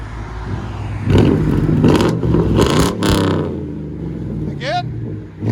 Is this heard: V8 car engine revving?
yes